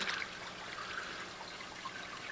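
Water trickles and splashes softly onto a baby Brazilian boa's shed skin, a faint, steady wet wash at close range with no voices.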